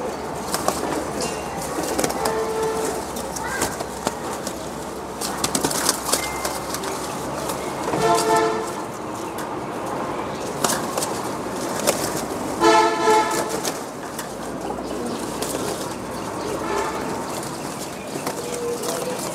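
Deshi Giribaz pigeons make soft low cooing calls against a steady background hum, with brief harmonic tooting bursts near the middle and toward the end.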